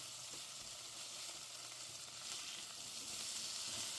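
Potatoes fry in a little oil in a pot, giving a soft, steady sizzle with faint crackles and a slight swell toward the end, heard alone and fairly quiet.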